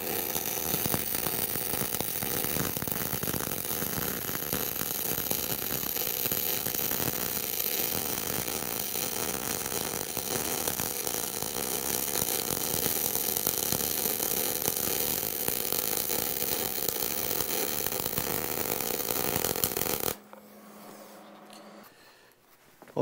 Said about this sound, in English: there's my first weld with gas